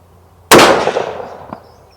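A single sharp gunshot from a Bergara BA13 stainless take-down rifle in .308 Winchester, loud and close with a long decaying echo, followed by a faint metallic click.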